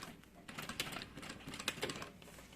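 A sewing machine stitches slowly along the edge of a bag in short, faint, rapid bursts of mechanical clatter, heard close up in a quiet room.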